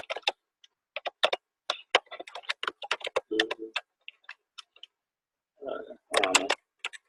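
Irregular clicks of typing on a computer keyboard, close and fairly faint, coming in short bursts with pauses, with a couple of brief louder bursts of other sound in between.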